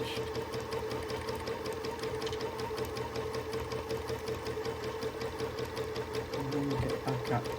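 A sewing machine doing free motion quilting on a quilt, a fast steady needle chatter running the whole time at close range, with a brief soft thump near the end and no speech.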